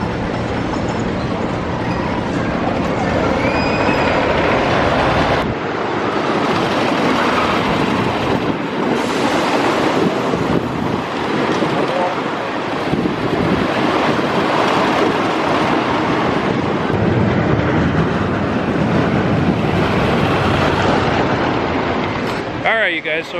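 Ride aboard the Cornball Express, a CCI wooden roller coaster at Indiana Beach, with loud continuous rumbling and rattling of the train on the track, heavy wind noise and riders' voices throughout.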